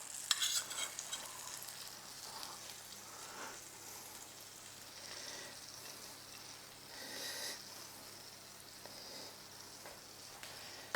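Shallots sizzle and crackle in a hot pan while being stirred, producing a continuous soft frying hiss with scraping stir strokes, quiet and close, with no talking.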